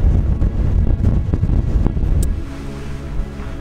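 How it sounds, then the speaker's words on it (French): Strong wind buffets the microphone outdoors in the mountains during landscape photography, a loud, gusty low rumble that eases after a couple of seconds; no one speaks. "Bon, il y en a marre du vent, hein."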